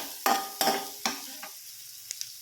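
Onions being sautéed in butter for a paneer butter masala, heard as a few sharp scraping stirs in the pan, each followed by a brief sizzle, spaced about half a second apart and then fading into quiet.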